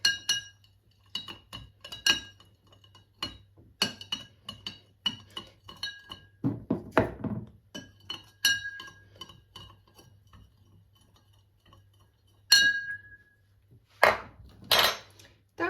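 Salt and sugar are stirred into water in a glass jar for salted mackerel brine: a spoon makes repeated sharp clinks and taps against the glass, irregular bursts separated by short silences, close and clear.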